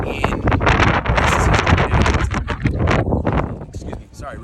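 Strong wind buffets the microphone in gusty roars at the Acropolis in Athens, loud and continuous beneath a man's speech.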